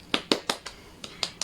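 Children in a moral education class clap their hands in a short run of sharp, separate claps, seven in a loose rhythm with small gaps between them.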